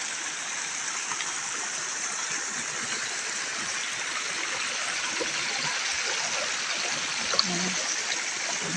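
A hillside stream at a spring in rural Tuburan, Cebu, flows with a steady close babbling rush, continuous and even, with a small clunk near the end.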